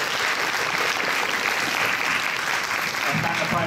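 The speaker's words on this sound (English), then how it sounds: "we also have another big round of applause for the four grand finalists" A big round of audience applause at a university debate competition grand final, with dense, continuous clapping from a large room holding steady and loud throughout.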